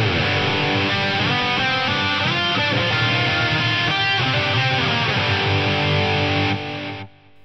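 A distorted electric guitar plays through a Strymon DIG delay pedal in ADM mode, sustained notes ringing and repeating, loud and close, before fading out at the end.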